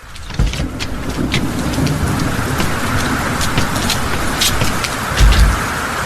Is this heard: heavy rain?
yes